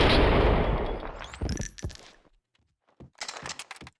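A Kalashnikov rifle in the Max Payne 2 video game fires a loud burst close by, followed by a ringing metallic clatter, silence, and then a short second burst.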